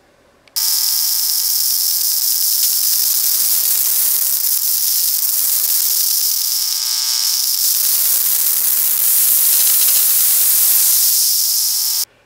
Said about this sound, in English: the Wi-Fi is a mix of 1-second pulses and digital hash that sounds like a pressure